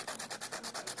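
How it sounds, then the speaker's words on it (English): Small sanding block lightly sanding the rough side of a pinhole in a lens cap, giving close, steady rhythmic rubbing strokes, about nine quick back-and-forth passes in a second, heard alone. "I'm going to take a little sanding block and just lightly"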